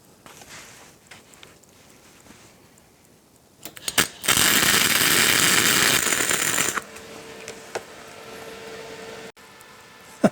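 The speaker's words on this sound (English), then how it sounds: "we'll go ahead and get these guys welded up" Metal flask parts are welded in a fabrication shop, with a loud, steady crackling arc burst lasting about three seconds among quieter handling clicks and shop noise.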